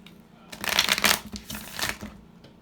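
A Love Tarot card deck being shuffled in a few quick riffling bursts, close and crisp, with short pauses between.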